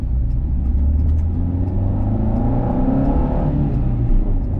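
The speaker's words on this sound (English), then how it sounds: "See what it feels like just driving 5th gear," A Renault Clio 172 cruises down the road in 5th gear, its engine a steady mid-pitched drone with low rumble and tyre noise, loud and continuous throughout with no talking.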